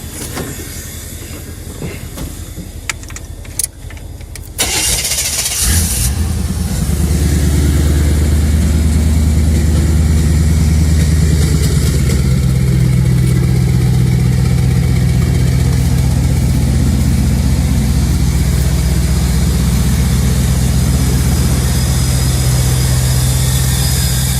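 An old GM square body truck cranks over and catches after a few seconds of quiet shuffling, then settles into a loud, steady, rumbling idle that holds unchanged to the end.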